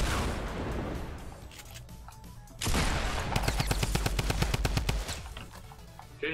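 Fortnite Battle Royale gunfire: a quieter stretch, then a loud burst of rapid automatic shots from about the middle onward, dense and close, with no talk.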